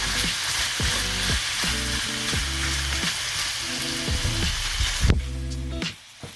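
Ground turkey sizzles steadily in a hot pan while a spatula scrapes and breaks it into small chunks with repeated knocking strokes, close and loud, with a brief lull near the end and no talk.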